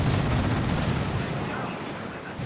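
A Chaos Terminator's autocannon fires in a Dawn of War 2 match, a dense, sustained barrage of heavy gunfire and blasts that fills the scene and fades slightly toward the end.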